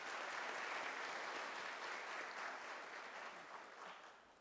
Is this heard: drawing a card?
no